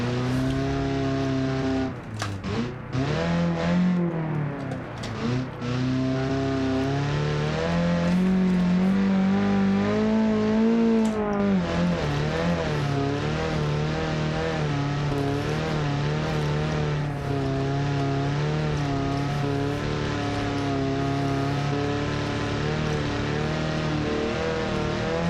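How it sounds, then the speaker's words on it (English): A car in a Baja-style off-road competition game drives through sand with a steady, loud engine drone that rises and falls in pitch as it revs and accelerates, continuous throughout with no talk. "This car suffers from snap oversteer even in the sand."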